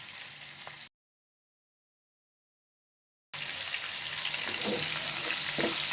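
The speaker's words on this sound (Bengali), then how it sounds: "এখন লবণ হলুদ দিয়ে মেখে রাখা মাছগুলোকে মাথাটাকে আমি ভেজে নেব।" Katla fish heads coated in salt and turmeric fry in hot oil with a steady, bright sizzle that cuts out into silence for a couple of seconds, then returns louder and continuous with faint crackles.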